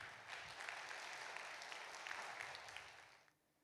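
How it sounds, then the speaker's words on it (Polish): At a Polish carol-singing festival, an audience applauds the media patrons with dense, even clapping that carries steadily for about three seconds, then cuts off abruptly. "Wielkie brawa dla nich są tutaj z nami"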